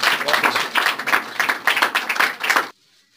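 A church congregation claps to welcome a guest, a lively round of hand claps with a pulsing, uneven rhythm that stops abruptly, leaving near silence.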